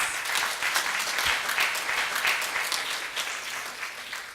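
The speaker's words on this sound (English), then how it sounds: "Let's have one more round of applause for our panelists." An audience claps for panelists at a conference, a continuous, bright, moderately loud round of applause that eases slightly toward the end.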